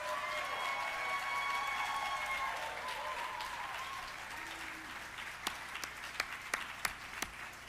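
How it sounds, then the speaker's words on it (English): Faint, distant audience applause at an awards ceremony, a soft steady patter that thins out into a few scattered single claps toward the end. "can give another round of applause"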